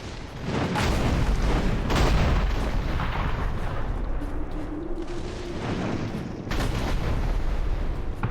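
Enemy gunners firing cannons in the Dungeon Siege 3 action RPG, heavy booming blasts with rumbling tails, a couple of big shots near the start and another later, near and loud.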